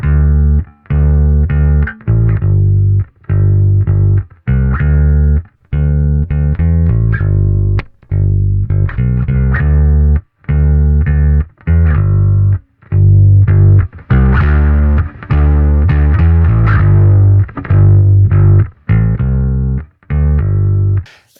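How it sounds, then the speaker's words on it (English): Electric bass through an Ampeg B15N amp plugin, driven to a gritty, distorted tone, plays a loud, punchy line of short notes separated by brief gaps, heard alone with no talking. "It's the Ampeg B15N. It's an awesome bass amp VST."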